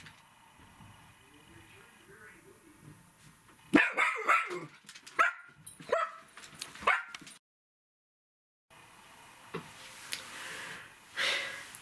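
Several dogs bark in a burst of sharp, close barks and yips, with soft snorting and faint voices nearby, then a brief silence before quieter household noise returns.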